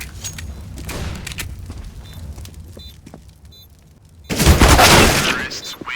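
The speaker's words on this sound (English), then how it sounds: "Throwing flashbang." A flashbang grenade thrown in Counter-Strike: Global Offensive goes off as one loud, broad burst that swells and rings for about a second, following quieter in-game rumble and scattered thuds.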